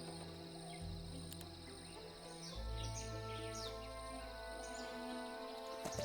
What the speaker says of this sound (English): You guys hear the birds?